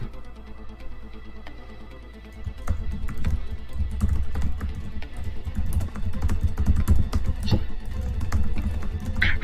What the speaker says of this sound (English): Furious typing ensues.